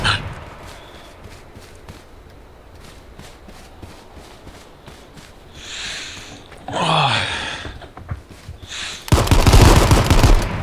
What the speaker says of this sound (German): Alter, du schießt ja.